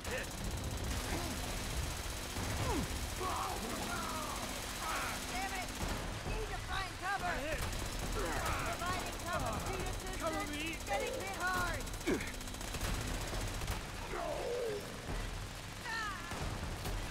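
Steady, dense gunfire in Fallout 76, an ongoing fusillade of rapid shots that runs throughout at moderate loudness, with voices and game sounds over it.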